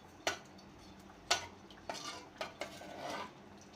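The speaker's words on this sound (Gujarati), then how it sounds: "એક ચમચી મીઠું નાખી હલાવી લઈશું" A spoon stirs salt into rice and water inside a pressure cooker. Several quiet, sharp metallic clinks and scrapes come at uneven intervals against a faint, hushed background.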